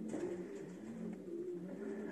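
Pigeons coo softly in repeated low rolling calls, a steady faint murmur from nearby birds with no speech.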